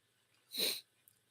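One brief sneeze close to the microphone, a short sharp burst of breath in an otherwise quiet room.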